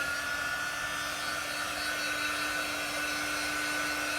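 Blow dryer drying a chalk craft project, a loud, steady, continuous whirring rush of air held at an even pitch throughout, close by with no voices.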